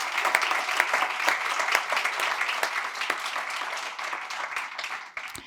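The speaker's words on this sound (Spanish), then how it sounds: "Un aplauso también, por favor, para Brenda." An audience at a book-talk anniversary event applauds for about five seconds, a dense, lively run of clapping that holds steady and then tapers slightly toward the end.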